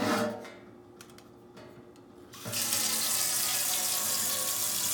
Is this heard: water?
yes